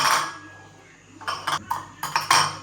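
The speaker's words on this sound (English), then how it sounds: "I'm gonna get you to crack the eggs into the bowl" A few light taps and clinks of eggs being cracked against a mixing bowl for a Jamaican pumpkin cake, short bright knocks in quick succession, close and clear.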